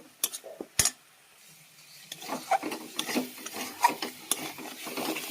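Cumin seeds frying with onion, ginger and garlic paste in a pan, stirred with scraping, rasping strokes and clicks, quiet at first then a steadier run of close scrapes over a faint sizzle.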